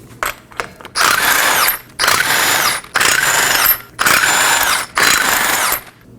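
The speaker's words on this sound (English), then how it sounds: "we're going to locate 5 21mm lug nuts. Remove these as well." An impact tool spins the 21mm lug nuts off a Toyota Corolla wheel in five loud, close, rattling bursts, each about a second long, separated by short pauses.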